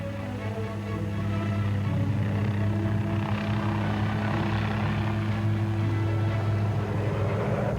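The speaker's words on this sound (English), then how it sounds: "As the attack helicopters approach their attack positions" Attack helicopters flying past, a steady loud rotor and turbine drone with throbbing low tones, continuous throughout with no voices.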